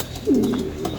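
A racing pigeon in a loft gives a single soft, low coo, close and moderately loud, with no talking over it.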